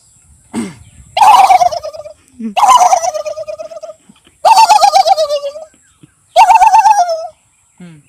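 A person's voice imitates a turkey gobbling, four loud rapid warbling bursts spaced roughly a second apart, each preceded by a short sharp lead-in note, close to the listener.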